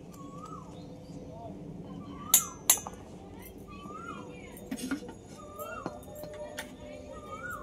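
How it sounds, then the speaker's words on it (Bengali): A spoon clinks against a bowl while cornflour is mixed in for pakora batter, two sharp clinks followed by a few lighter taps, close but quiet, with talking and faint bird calls in the background. "আমি এখান থেকে 2 থেকে 3 চামচ কর্নফ্লাওয়ার নিয়ে গুলে নেব।"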